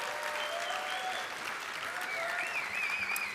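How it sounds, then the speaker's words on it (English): Audience applause at a NET23 conference talk, a steady wash of many hands clapping throughout, moderately loud with faint voices and whoops mixed in. "Could I get a little bit of clap?"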